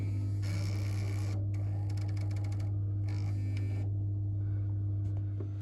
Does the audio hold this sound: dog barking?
no